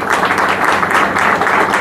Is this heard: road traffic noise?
no